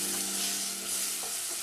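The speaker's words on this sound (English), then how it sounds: "I've been frying this" Spaghetti jollof sizzling as it fries in a pot, a soft, steady hiss and crackle heard up close with no talking.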